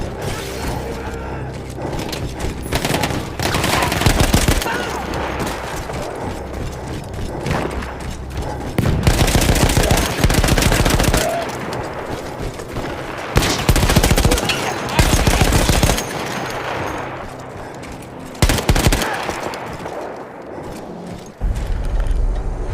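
Bursts of heavy machine gun fire in the World War I shooter Battlefield 1 come in loud, rapid rattling volleys separated by short pauses, with mechanical clanks and distant battle noise between them.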